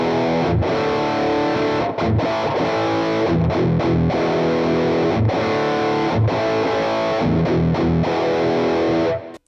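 Electric guitar runs through a Boss MT-2 Metal Zone 30th Anniversary distortion pedal with its EQ knobs set at 12 o'clock, giving a thick, saturated, chugging riff broken by short rhythmic stops before cutting off at the end.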